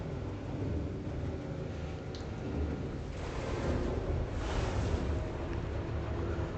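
A spaceship in Elite Dangerous lifts off with a deep, continuous engine rumble and whooshing thrust, swelling slightly midway, heard alone without talk.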